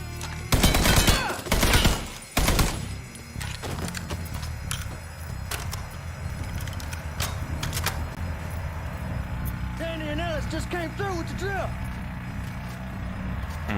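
Machine gun fire in Mafia 3 rips out in heavy, rapid bursts over the first few seconds, followed by scattered sharper shots, with in-game voices talking over later stretches.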